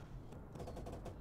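Gunfire aimed at a tank during a World War II video game battle, a rapid burst of shots crackling continuously across a short stretch, fairly loud and dense.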